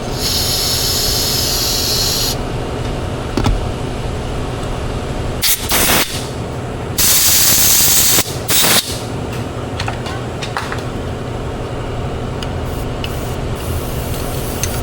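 A gummed-up spray paint can hisses in loud bursts while its clogged nozzle is cleared: a long broadband spray at the start, then short blasts and one sustained spray midway, all over a steady low rumble.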